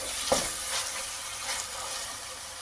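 Chopped tomato stirred into a frying khichdi base in a pan, giving a soft, steady sizzle and hiss with a few light scraping strokes of the spoon, fairly quiet and close.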